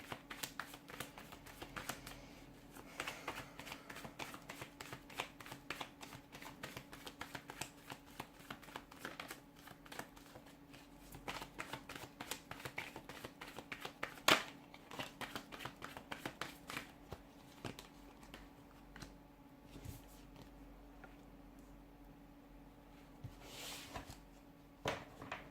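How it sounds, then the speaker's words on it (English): Tarot cards shuffled and drawn by hand at close range, a quiet, steady run of soft riffling flicks and sharp snaps with no talking. "See if we can get a couple more cards here."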